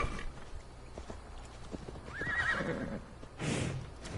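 A horse in Assassin's Creed Valhalla gives a short whinny over faint, steady hoofbeats and soft ambient game noise, quiet and somewhat distant.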